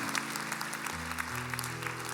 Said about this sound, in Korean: 우리에게 응답하신 하나님께 큰 박수로 영광을 올려드리겠습니다